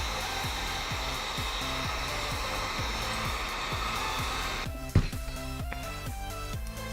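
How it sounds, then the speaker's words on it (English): A heat gun shrinking heat shrink tubing on a quadcopter motor and ESC wiring build, blowing as a steady whooshing fan hum under background music, with a sharp click near the end as it switches. "And then just use a heat gun. Make sure you shrink both sides."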